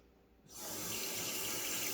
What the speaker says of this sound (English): We'll get a little bit of water going.